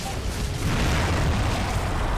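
A Hammer of Dawn satellite strike in the video game Gears of War 2 sounds as a dense, continuous explosive roar with heavy low rumble, steady and loud throughout.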